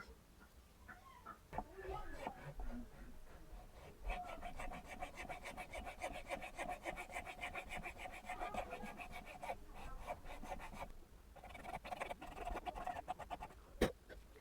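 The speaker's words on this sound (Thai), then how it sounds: "อันนี้มันเป็นใบเลื่อยขนาดตัดเล็กนะทุกคน" A small saw blade cuts a fret slot into a wooden guitar fretboard during a refret, giving a steady rapid rasping stroke that runs close and continuous for most of the stretch, with a few sharp knocks.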